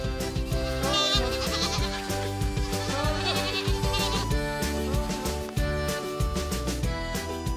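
Young goats bleat over and over on pasture, several overlapping calls close by, loud and continuous against an outdoor background.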